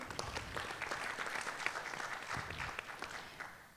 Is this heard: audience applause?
yes